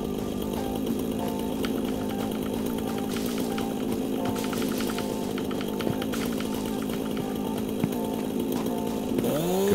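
Chainsaw in the video game Satisfactory clearing trees, a loud, steady motor drone running continuously throughout with slight pitch wavers as it cuts, no voices over it.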